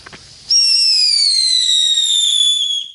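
A New Year's Eve firework launches with a brief crackle, then a loud, sustained descending whistle lasting over two seconds, close by and with no voices.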